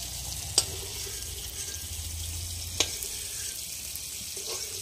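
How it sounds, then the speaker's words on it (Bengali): Cauliflower frying in a pan with panch phoron, giving a steady soft sizzle throughout with a couple of sharp clinks from a utensil. "ফুলকপি ভাজা হয়ে গেছে"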